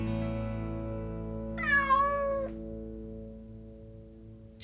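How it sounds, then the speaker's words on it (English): A cat gives a single drawn-out, wavering meow over a steady low background hum, mid-loud and close. "She was the cat we owned."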